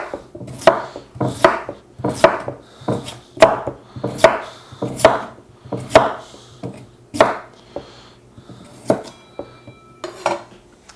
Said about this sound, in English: So I'm going to slice these up, actually decently thin.